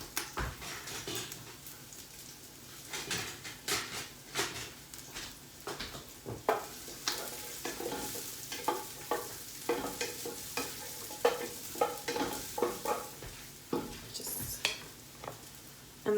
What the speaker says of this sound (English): So I just add the minced garlic to that.